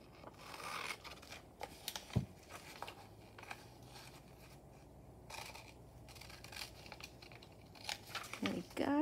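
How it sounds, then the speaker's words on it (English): Scissors cut floral pictures out of paper for junk journal cards, giving soft close snips, paper rustling and crinkling over a quiet, steady room background. "just sit down with a pair of scissors and find beautiful things and cut out"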